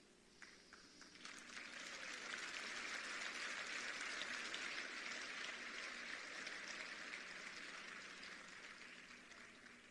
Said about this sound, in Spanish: Ese aplauso es para Borges.